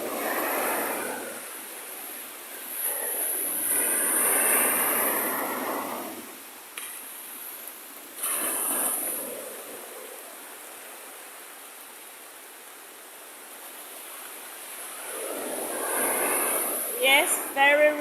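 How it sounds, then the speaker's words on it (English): Rough sea waves in Jamaica during heavy rain surge and recede as broad rushing swells, loud then fading and building again, with a voice speaking over the surf. "you can hear the sea"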